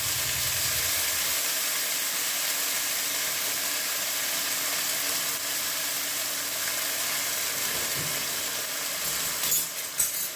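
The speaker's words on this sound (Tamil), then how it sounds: "இஞ்சி பூண்டு பேஸ்ட் போட்டு வதக்கிக்கிறோம்" Ginger garlic paste sautéing in hot oil gives a steady, broadband sizzle that stays loud and even throughout, with a brief stir or clatter near the end.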